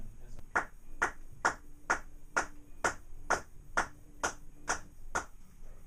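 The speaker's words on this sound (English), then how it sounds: "Just clap your hands or something at the time of the music" Steady hand claps in a recording studio during a horn recording session, about a dozen evenly spaced sharp claps keeping time, close and fairly clear over a faint low background hum, with no talking.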